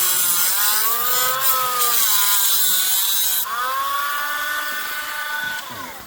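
Metal is cut in a steady, continuous pass, producing a loud, whining, rasping tone that shifts in pitch and then eases off near the end, with no talking.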